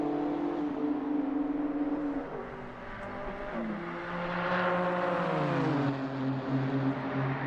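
GT3 race cars circulate at the Red Bull Ring in a racing sim, engines droning steadily with rising and falling pitch as gears shift, loud and continuous without talk.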